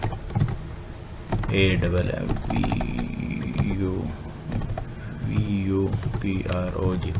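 Keys tapped on a computer keyboard while a project name is entered, a steady run of light clicks under someone talking.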